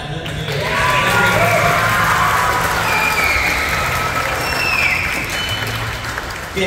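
Sustained audience applause fills a high school auditorium after a band's performance at a spring final band concert, a dense, steady wash of clapping with some cheering mixed in, holding loud throughout before easing slightly.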